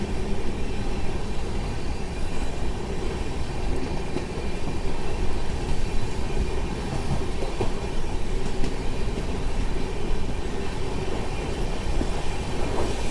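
The 12763 Padmavati SF Express runs along the rails with a continuous loud rumble and rhythmic clickety-clack of wheels over joints, steady and close throughout.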